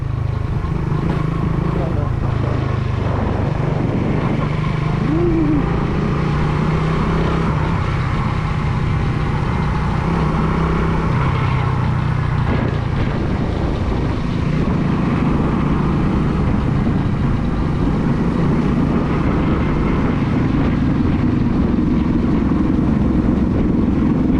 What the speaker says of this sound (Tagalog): Ganda naman ang motor niya.